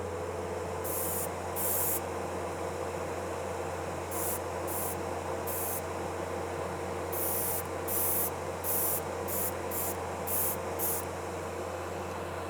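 An airbrush sprays finish onto wood in a small spray booth, a series of short hissing bursts, some spaced and some rapid, over a steady low fan hum.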